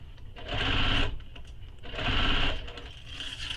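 A sewing machine runs in two bursts of stitching while a handbag is sewn, its seam squished under the presser foot; steady mechanical whirring, close and fairly loud, pausing briefly between runs.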